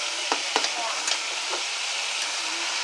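Oxtail frying in a pan with fresh onion and garlic gives a steady, close sizzle, broken by a few sharp crackles and stirring clicks near the start.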